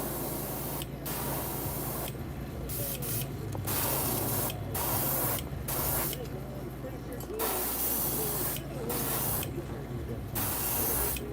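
Aerosol spray paint hisses in long continuous bursts broken by short pauses as a fishing lure is coated yellow, close and loud over a steady low hum.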